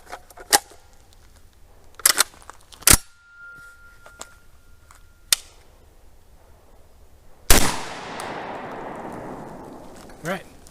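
Rock Island Armory VRBP-100 12 gauge bullpup shotgun fires several sharp, loud shots spaced a few seconds apart, the last one followed by a long rolling echo and then a fainter bang.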